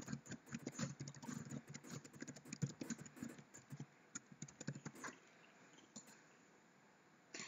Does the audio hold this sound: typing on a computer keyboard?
yes